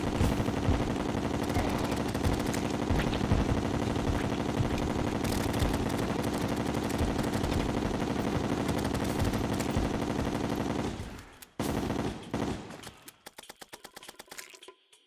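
Rapid automatic gunfire of chlorophyte bullets in Terraria Master Mode, a dense continuous stream of shots with layered game effects, cutting out abruptly near the end into sparse scattered sounds.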